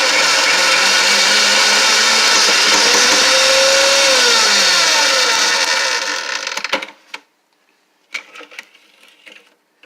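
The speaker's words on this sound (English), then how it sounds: "if you're wondering what that horrible sound is, that's my old Hamilton Beach getting old" An old Hamilton Beach blender pureeing salsa with tomato sauce and onions, running loud and strained with a rough, whining grind for about six seconds before cutting off, followed by a few faint knocks.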